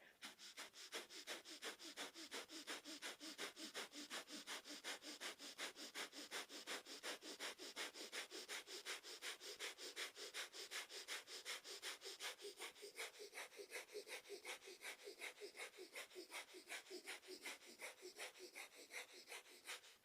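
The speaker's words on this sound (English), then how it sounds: "Breath of fire is our panting breath through the nose" Kundalini yoga breath of fire: rapid, steady panting through the nose, a fast rhythmic train of sharp sniffing exhalations repeating evenly and close for the whole stretch, with no talking.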